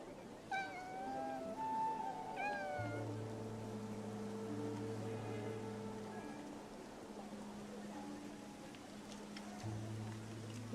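Cat meowing in the video game Infinity Nikki, a few short rising meows early on, heard over a steady low game soundtrack with sustained tones and ambient rumble.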